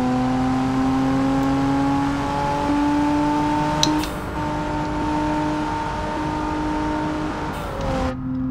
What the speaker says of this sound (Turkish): Son aracımızı hemen şöyle gazlayalım bakalım